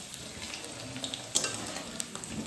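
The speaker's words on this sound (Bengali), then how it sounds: "প্রথমে আলু ভেজে নেবো" Potatoes frying in a pan at the start of a mutton curry, a soft steady sizzle with light clinks and scrapes of a utensil against the metal, close and fairly quiet.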